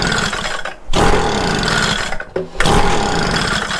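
Echo PB-200 leaf blower, flooded after being left on choke, its small two-stroke engine running rough and loud up close, dipping and bogging twice before picking back up.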